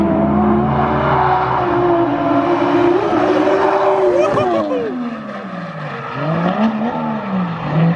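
A race car circles the Ebisu Spring Matsuri course, its engine screaming loud and close with continuous high revs, shifting pitch through corners and a brief dip before climbing again.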